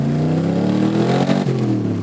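A 427 FIA Cobra V8 revs hard and steadily, a loud, close, rumbling exhaust note that rises and falls slightly with the throttle and dips briefly near the end before picking back up.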